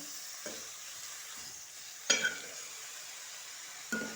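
Chicken curry is stirred in hot oil, a soft continuous sizzle broken by a few scraping clinks of a spoon against the pan, close and fairly quiet.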